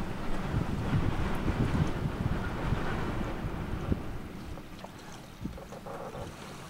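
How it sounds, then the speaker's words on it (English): Steady wind buffets the microphone of a bald eagle nest camera, a continuous low rumbling roar with gusty swells that holds at a moderate level throughout, with no voices. "Once again, that's the wind."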